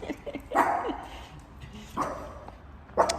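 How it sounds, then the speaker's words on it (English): Several dogs, not aggressive but unused to strangers, bark in short bursts, some yips mixed in, fairly close with quiet gaps between barks. "They're not aggressive dogs, they're just not used to seeing"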